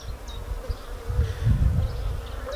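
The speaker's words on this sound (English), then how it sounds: "Just open the hive up, so there's a few bees in it." Honey bees buzz close by at an opened hive with a honey super in a UK apiary, a low, wavering drone that swells in the middle, with occasional higher whines of single bees passing near.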